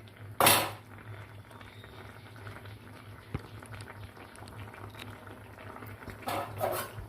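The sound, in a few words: mixing cabbage moong dal curry and covering with lid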